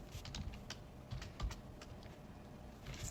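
Quiet keystrokes on a computer keyboard as a file name is typed, a loose run of soft clicks close by with no voices.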